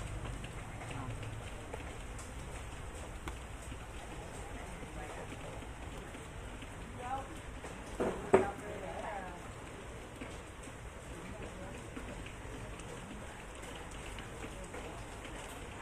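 Steady rain falls on a rainy day in Vietnam, a constant even hiss of drops throughout, with a couple of brief louder knocks in the middle.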